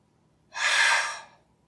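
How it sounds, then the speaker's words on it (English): A single breathing-exercise exhale blown out through the mouth, a soft airy rush lasting under a second, close and alone in a quiet room. "Blow out through the mouth."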